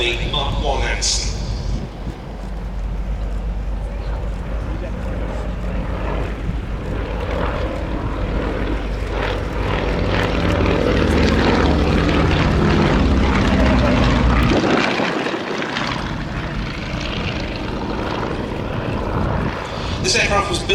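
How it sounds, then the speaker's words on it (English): Avro Anson Mark I, a 1943-built twin-propeller aircraft displaying at an air show, drones steadily and builds as it passes close overhead, then fades; a commentator talks throughout. "The world's only airworthy Mark I Anson."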